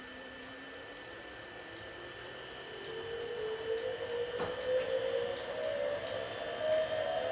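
A VFD-driven motor on a restored Hendey Universal 1B milling machine gives off a steady high-pitched whine, with a faint tone rising in pitch as it spins up.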